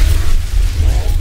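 A building blown apart in the sci-fi base-defence game The Riftbreaker, played on an acid world, heard as a loud, continuous low rumbling blast that fills the whole moment.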